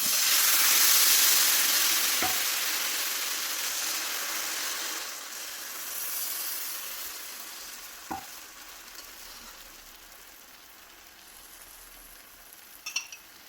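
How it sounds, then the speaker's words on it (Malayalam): Dosa batter ladled onto a hot tawa on a stove sizzles steadily, a broad hiss that slowly fades, broken by a couple of sharp clicks of the ladle. "ഒരു തവ സ്റ്റൗ മീത വെച്ചിട്ടുണ്ട് അതിലേക്ക് ഒരു തവി നമുക്ക് ഒഴിച്ചു കൊടുക്കാം"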